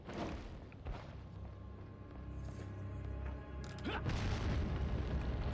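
Grenade explosions go off in Resident Evil 4 on PS2, a deep rumbling boom early on followed by a second heavy blast near the end, with mechanical creaks and low background drone between them.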